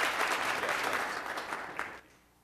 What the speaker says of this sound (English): we really do owe them a big round of applause as they leave.